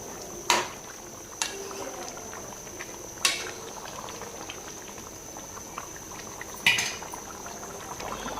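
Liquid bubbles and simmers steadily in a pot of meat, with a few sharp clinks of metal utensils against the pot at irregular intervals.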